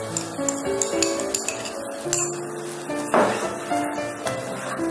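Masala paste for a pumpkin curry frying in a pan while being stirred, with a sizzle and repeated clinks and scrapes of a spoon against the pan, close and moderately loud, with no talking.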